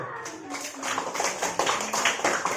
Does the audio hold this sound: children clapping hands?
yes